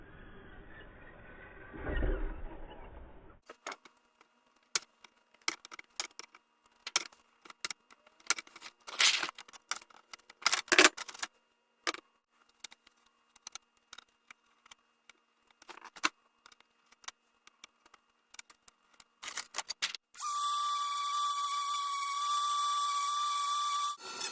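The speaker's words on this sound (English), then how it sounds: "now I've got the cage all trimmed and sanded down" Cutting, trimming and sanding work on a model roll cage for a Poison Spyder Wraith RC crawler: scattered sharp clicks and scraping taps, close and uneven, ending in a steady high-pitched whining tool run.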